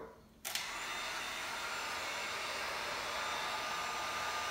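A hair dryer switches on abruptly after a brief quiet moment, then blows as a loud, steady whooshing roar to dry a demo piece, continuing unbroken to the end.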